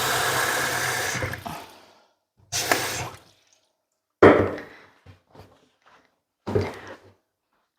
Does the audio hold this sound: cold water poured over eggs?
yes